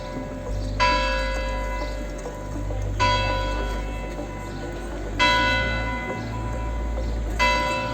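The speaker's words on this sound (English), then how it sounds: "The bell on St. Martin's Tower is striking at 12 o'clock." Church bell of St. Martin's Tower in Memmingen, Bavaria, striking at noon: loud, ringing strokes with long humming decay, spaced about two seconds apart, heard outdoors with no talk.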